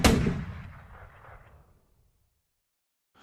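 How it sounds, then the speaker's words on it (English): A single loud gunshot-like bang cracks out, then echoes and decays over about two seconds into silence. "the park's visitors were jolted awake by the sound of gunshots"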